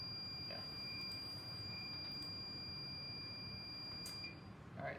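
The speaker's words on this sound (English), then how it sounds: "the alarm went off" A wired alarm beeps in a high, steady electronic tone, sounding in a repeating pattern of short bursts and gaps, faint against low room rumble.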